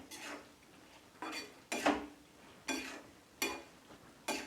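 Prawns and bottle gourd stirred together in a pan, heard as five or six separate scraping, clinking strokes of a spoon against the metal at intervals, fairly quiet, with no talk.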